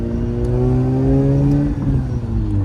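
A Mazda RX-8 with a titanium exhaust revs up close and loud, its engine tone rising in pitch before easing back near the end.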